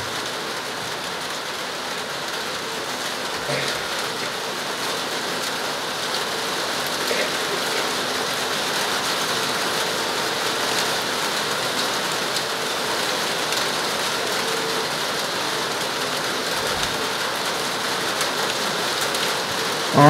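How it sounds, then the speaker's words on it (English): Steady rain falls continuously, an even hiss of drops on surfaces with no voices. "And let the sound of the rain come in to where you are."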